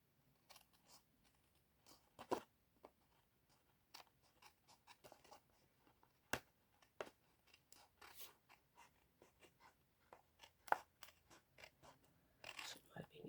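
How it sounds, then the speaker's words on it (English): Scissors trim the edge of a heat-embossed craft card in a series of quiet, close snips and paper rustles, irregularly spaced with brief louder cuts, against a near-silent background. "so I might just trim that down"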